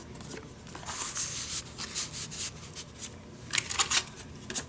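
Paper birthday cards are shuffled, rubbed and slid into a journal, a run of soft close papery swishes and scrapes in irregular bursts, with no talking.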